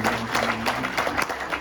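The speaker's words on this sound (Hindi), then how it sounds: "तालियां" An audience at a Hindi poetry recital (kavi sammelan) gives a short burst of brisk, rhythmic clapping, with a voice faintly heard beneath it.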